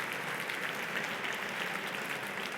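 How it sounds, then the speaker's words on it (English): Sustained audience applause for a panel at a talk event, dense even clapping from a large crowd filling the room, steady and fairly loud with no voices above it. "Please join me in giving this panel a massive round of applause."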